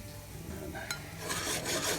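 Flour and oil frying in a pan while cooking liver and onions: steady hiss and rasp of sizzling, growing a little louder toward the end, close and continuous with no talk.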